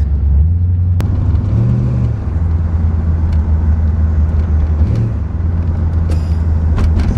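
A C4 Chevrolet Corvette engine drones with a deep, steady rumble from inside the car while driving, swelling slightly twice as the revs change, with no talking.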